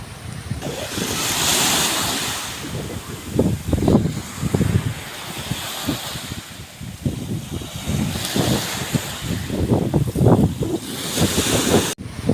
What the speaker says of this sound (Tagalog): At medyo lumakas na yung hangin no. Tsaka yung alon, ayan o.